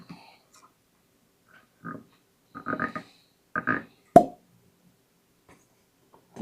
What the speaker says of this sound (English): Another good cork pop.